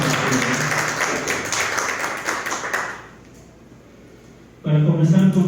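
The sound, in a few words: applause from the audience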